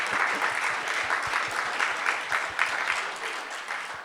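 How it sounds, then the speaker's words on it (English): Conference audience applauding panelists at the close of a plenary session, a steady, dense round of clapping from a large hall crowd held at an even level throughout. "So let's give them one round of applause."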